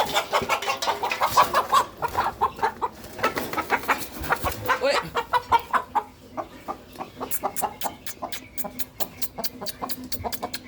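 Rooster clucking in a series of short, rhythmic calls, close and fairly loud, with no talk over it; it is a bird kept by a broiler chick seller whose owner has not yet been found.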